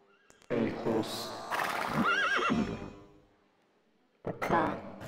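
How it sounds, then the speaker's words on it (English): A horse whinnies loudly in a rising, wavering call, followed by nearby clip-clop of hooves, with a brief pause and another burst of sound at the end. "Hey, horse."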